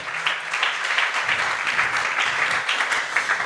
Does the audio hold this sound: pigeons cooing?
no